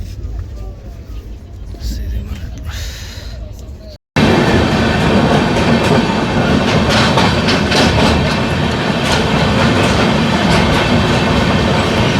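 Quiet background murmur, then after a brief cut a loud, steady roar and rattle of a train running on rails, with voices talking over it.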